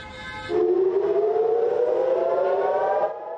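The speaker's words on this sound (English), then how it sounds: "Air raid sirens over Israel warning of incoming Hezbollah rockets" A loud air raid siren over Israel, warning of incoming Hezbollah rockets, starts abruptly and holds a steady, slowly rising wail for about three seconds before beginning to fade.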